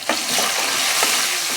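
Two red chillies fry in a pan with ginger-garlic paste while a utensil stirs them, giving a steady close sizzle with a few soft scraping strokes and no talking.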